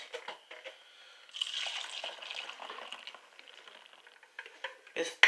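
Instant milk pudding mixture is poured from one bowl into another, giving a soft, splashy liquid patter that swells for a couple of seconds between light clinks and kitchen handling noises.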